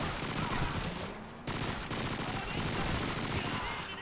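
Sustained submachine gun fire from a PP in Call of Duty 2's Stalingrad fighting forms a dense, loud chatter of rapid shots with a brief break, over a backdrop of battle noise.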